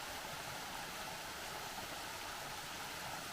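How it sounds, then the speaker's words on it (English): Small waterfall on a hiking trail along the Bartram Trail, a steady broadband rush of falling water that holds constant and fairly loud for the whole stretch, with no voices over it. "we got a nice little waterfall surprise here"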